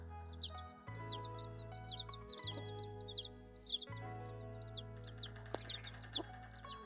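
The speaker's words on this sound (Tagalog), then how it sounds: "Ayan yung alaga naming manok guys." Pet chickens, including a hen, clucking and calling repeatedly in a yard close by, short rising and falling calls in a steady series over a low background hum.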